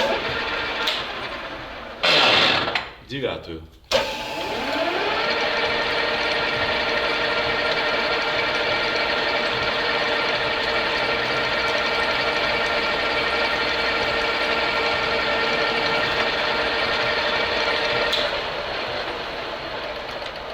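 A centering drill bores a center hole, its machine settling into a loud, steady whining tone with strong harmonics after a few brief clunks and pauses, running evenly until it eases off near the end.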